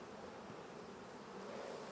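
Irritated honeybees swarm around an open hive during inspection, their dense, steady buzz staying constant and fairly quiet with no pauses.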